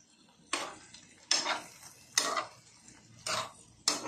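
A small spoon scrapes and clinks against a frying pan while garlic shrimp are stirred, five distinct bursts of scraping at regular intervals, close and moderately loud, with no talking.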